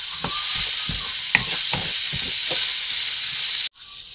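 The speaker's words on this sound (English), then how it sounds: "And just give it a simple stir." Ingredients for Ghanaian chicken fried rice sizzle steadily in a hot pan while a utensil stirs them in several distinct scraping strokes, close and clear. The sizzle cuts off abruptly near the end.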